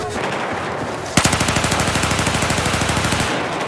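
Rapid automatic gunfire in the video game Battlefield 4, a long, evenly spaced burst of loud shots close up that starts abruptly over background game noise and then stops.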